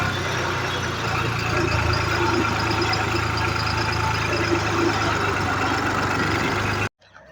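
A tractor standing in a queue of tractors, its engine idling with a steady low rumble that runs evenly for about seven seconds before cutting off abruptly.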